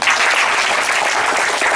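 Loud, steady applause from an audience for a participant named Neha at a talk or show, a dense continuous wash of many hands clapping with no gaps and no voices over it.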